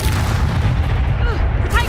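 A Confringo explosive spell blast fired in the video game Hogwarts Legacy: a loud, sustained booming rumble with heavy low-end weight, running straight through without a break, alongside some game sounds.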